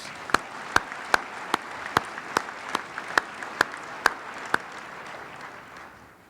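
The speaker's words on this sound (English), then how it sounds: "Your applause, please, for all of the gold sponsors." Sparse, slow applause from a civic audience at a city address for gold sponsors: about ten distinct, fairly loud claps spaced evenly over a soft crowd bed, fading out at the end.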